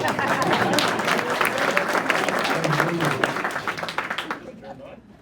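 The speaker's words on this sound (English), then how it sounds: "You can go ahead and applause now, just in case he's there." An audience claps steadily for an arriving guest, a dense, lively burst of applause that carries for several seconds before thinning out and fading, with some voices mixed in.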